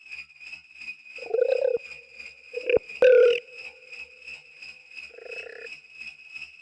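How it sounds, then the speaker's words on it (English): Synthesized frog croaks come as four short, burpy calls at irregular intervals, the third louder and closer, over a steady electronic tone with regular pulses and no voices. "Frogs."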